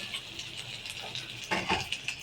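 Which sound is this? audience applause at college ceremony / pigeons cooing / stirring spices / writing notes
stirring spices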